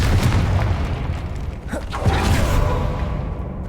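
A loud magical blast booms against a barricaded archway in a Hogwarts Legacy game scene, with a whooshing burst and rumbling debris filling the space around it.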